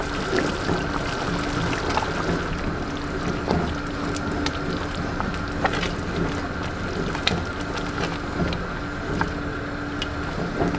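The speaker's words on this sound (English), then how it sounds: "it's boiling really well" Ogbono soup with tomato, pepper and onion boiling steadily in a pot, a continuous bubbling, gurgling rumble with small pops throughout, fairly loud and close, no talking.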